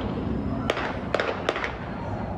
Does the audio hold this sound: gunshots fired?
yes